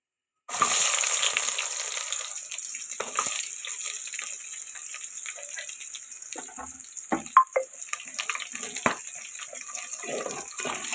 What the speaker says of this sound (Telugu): బాగా ఫ్రై చేసుకోవాలండి onions. Golden brown colour వచ్చిందాక fry చేసుకోవాలి.